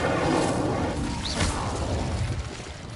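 An Incendio fire spell cast in Hogwarts Legacy, a dense roaring whoosh of flame with a rising swish in the middle, continuous and fairly loud for about three seconds, with no voice.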